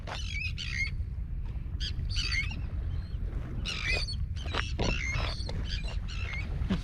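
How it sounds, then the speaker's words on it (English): Noisy seabirds call repeatedly by the sea during a UK fishing trip, sharp squawks and chirps coming in bursts over a steady wind and surf rumble. "There's some noisy birds about"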